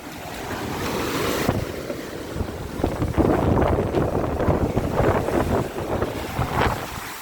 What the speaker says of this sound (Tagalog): Ang lakas ng alon, halos masisira na